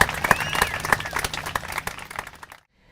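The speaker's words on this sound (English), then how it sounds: "just give everyone a big round of applause" Audience applause at a Kansas City, Missouri city event, a dense burst of many hands clapping that fills the room, with a few cheers mixed in before it cuts off abruptly near the end.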